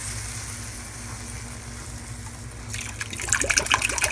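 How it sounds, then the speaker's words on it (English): Two cans of beef broth poured into a pan of browned meat, a steady liquid pour that swells into a louder, splashing gush toward the end. "you're going to add 2 cans of beef broth"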